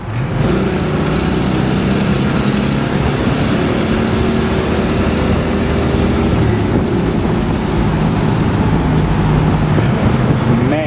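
A triple-black 1966 Pontiac GTO convertible with a 389 tri-power engine and 4-speed drives along, its steady, loud engine and road roar filling the whole stretch without letup.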